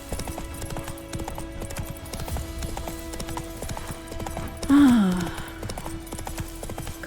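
Roach, the horse in The Witcher 3, trots with a steady train of close, crisp hoof clops over a low musical drone, and a brief whinny breaks through near the end.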